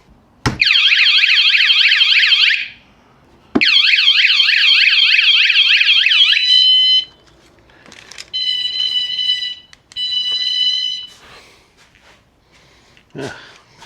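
A newly fitted Vanguard alarm blares in two long, loud warbling siren bursts separated by a pause. Shorter steady electronic beeps follow in separate bursts, each sharp and close.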